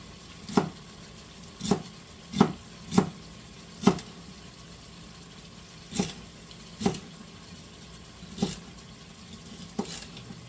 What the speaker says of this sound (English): The easiest way for me to cut celery is just chop it by hand.